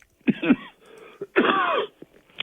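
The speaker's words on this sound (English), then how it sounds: "Had a cough sneak up on me." Two harsh coughing bursts, close and fairly loud, with a quieter rasp between them and a small throaty sound at the end.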